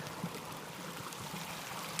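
A stream running beside Starr Trail makes a steady, broadband rush of flowing water, soft and continuous throughout with no voices.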